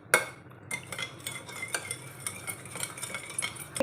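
Curd, warm milk, sugar and chili pieces are stirred together in a bowl, a utensil scraping and clinking against the sides in a quick, irregular rhythm, close and quiet with no talk.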